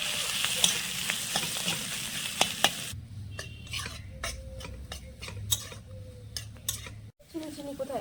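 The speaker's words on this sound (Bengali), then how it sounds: "একটু ভাজা ভাজা করে নেব।" Potatoes frying in a pan with salt, a steady close sizzle with occasional scraping and clinks of a utensil against the pan.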